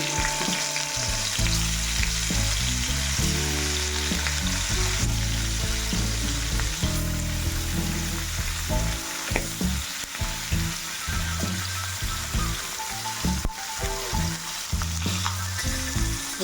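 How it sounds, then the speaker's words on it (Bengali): Hilsa fish fries in hot mustard oil, a strong, continuous close sizzle with bubbling crackle and scattered knocks and clatter from the pan. "সর্ষের তেল দিয়ে দিচ্ছি তেল গরম হয়ে গেছে এবার মাছগুলো"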